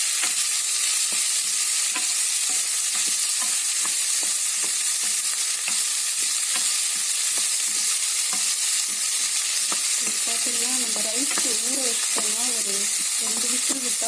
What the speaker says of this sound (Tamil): இந்த பீன்ஸ் போட்டு நல்லா கொஞ்சம் வதக்கி வதக்கி விட்டுக்கணும்